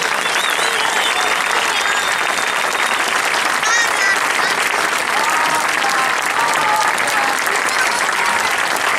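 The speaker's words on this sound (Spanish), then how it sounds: "Un aplauso, por favor, para el Juan" A brass band audience claps in sustained, dense applause throughout, loud and even, with scattered whistles and voices in the crowd.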